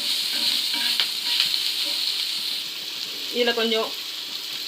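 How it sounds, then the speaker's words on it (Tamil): Chopped onions sautéing on a dosa pan for a hotel-style omelet, a steady broadband sizzle with scraping stir strokes and a brief clatter near the end, a voice speaking briefly over it. "நல்லா இப்படி வதக்கிக்கோங்க."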